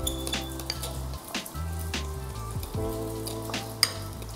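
Tofu frying in a pan gives a steady close crackle and sizzle, with a low hum underneath and a few sharp pops, and no one talking.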